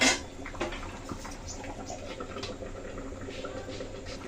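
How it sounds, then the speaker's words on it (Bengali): Tilapia fish curry with potato and tomato simmering in a covered pot, a faint steady bubbling patter with soft pops and drips throughout, no voices. "তরকারি তো সুন্দর করে ফুটছে, ফিরে হয়ে আসছে।"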